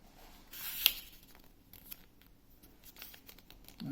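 A sheet of paper for a paper aeroplane is folded and creased, heard as close, soft rustles and a sharp crisp snap of the crease, followed by faint scraping.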